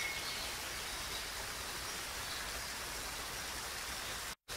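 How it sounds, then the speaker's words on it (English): Steady, soft rushing of moving water from a gentle brook, a continuous even wash with no voices, cutting out abruptly at the very end. "the sound of the moving water gets faint until you can no longer hear it"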